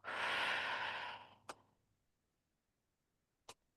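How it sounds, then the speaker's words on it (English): A long, breathy exhale during a qigong session, broad and steady for about a second before fading out, followed by two faint clicks later on, with no talking. "So I'm going to breathe in"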